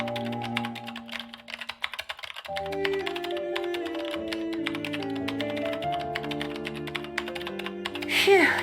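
Keyboard typing in a Nancy Drew video game, a steady run of small clicking taps under layered music, with the game music continuing throughout.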